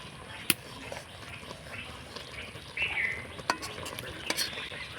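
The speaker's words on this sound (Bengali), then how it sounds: "দিয়ে একটু হালকা হাতে কিন্তু নাড়াচাড়ানো করতে হবে" Fried spices being gently stirred into raw mango pickle in a pan, a soft steady scraping and shuffling with light sizzle, a few sharp utensil taps on the pan, close and alone.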